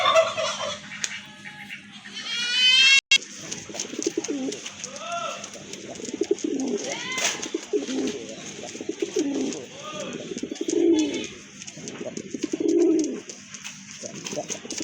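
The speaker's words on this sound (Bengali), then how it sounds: "এটাও হচ্ছে আপনার বিগ সাইজের এক জোড়া কবুতর রেড কালারের" A pair of large red pigeons coo repeatedly in deep, throaty phrases, close by, with someone talking over and between the calls.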